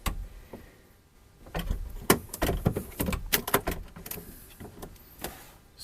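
A marine port window on a custom Ford Maverick camper is worked open, giving a series of close clicks, knocks and scraping handling sounds that come in short bursts, louder in the middle, with no talk.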